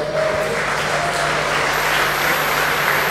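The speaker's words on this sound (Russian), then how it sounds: "Ваши аплодисменты." Steady crowd applause at the SLTV LAN Finals for a Counter-Strike match between Na`Vi and iG, continuous even clapping at moderate loudness with a faint electronic tone over the hall.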